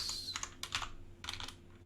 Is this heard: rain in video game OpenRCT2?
no